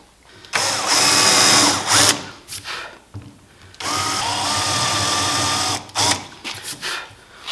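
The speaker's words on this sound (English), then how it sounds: "this is like a 1/2 inch drill bit" A power drill fitted with a 1/2 inch bit whines loudly into wood to cut a shallow countersink divot, running in two sustained bursts of roughly a second and two seconds with a short stop between them and brief blips after.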